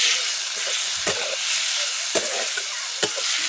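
Cooked bitter gourd is sautéed in a pan with a constant close sizzle, while three sharp stirring scrapes land at roughly even intervals over the frying hiss.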